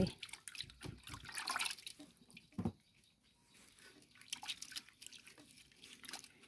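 Leaves are washed one at a time in water, with close splashes, drips and swishing in irregular bursts and quieter pauses between them.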